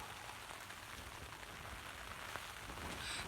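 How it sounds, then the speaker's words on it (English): Steady soft rain patters outside a tent at a solo wild camp, a faint even hiss of drops with occasional louder taps, continuous and quiet with no voices. "It's raining."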